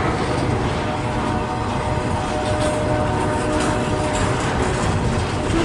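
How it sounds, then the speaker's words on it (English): Long freight train rolling past at Fostoria, Ohio, a steady rumble with faint clatter of cars that holds evenly throughout, without talk. "That's a long train."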